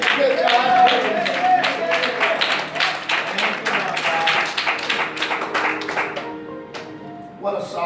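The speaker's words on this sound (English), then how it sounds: "Clap your hands" Congregation clapping at a Passover service, a dense run of rhythmic hand claps over music and voices that tails off near the end.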